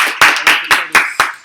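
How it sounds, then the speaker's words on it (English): An audience at a training session claps on request: six sharp, evenly spaced group claps, loud and close, each followed by a short decaying rattle. "Give it up, clap, clap, clap, clap, clap, clap, clap, clap, clap"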